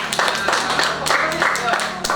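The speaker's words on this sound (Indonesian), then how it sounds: "Kasih tepuk tangan untuk" Classmates in a classroom clap briefly after a student group's presentation, a short burst of close hand claps mixed with overlapping voices.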